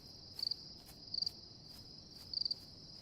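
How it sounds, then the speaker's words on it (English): Crickets chirp in the video game Paralives, three short rapid trilling bursts over a steady high insect drone, quiet and ambient. "dang, these crickets"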